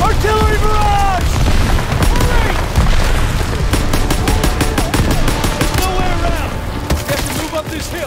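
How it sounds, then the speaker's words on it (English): An artillery barrage in Call of Duty WW2 pounds on with loud booming blasts, cracking gunfire and rapid machine-gun bursts, dense and continuous, while voices shout over the chaos. "Get down! Artillery barrage!"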